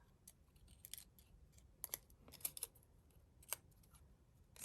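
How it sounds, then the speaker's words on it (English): Small scissors make quick, crisp snips through crepe paper while shaping dahlia petals, several close sharp cuts spaced irregularly over a quiet background with no talking. "I'm just doing those little cuts and cutting off a triangle."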